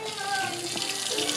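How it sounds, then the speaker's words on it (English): Steady running water splashing as a hog carcass is rinsed off, close and continuous with a faint voice underneath. "We're gonna rinse off the hog."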